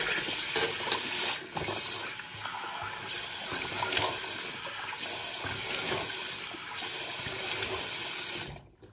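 Tap water runs steadily into a bathroom sink while a face is rinsed after a wet shave, with splashing breaks in the flow. The sound is close, continuous and fairly loud, cutting off at the end.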